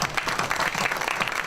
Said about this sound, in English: A round of applause for Kaz.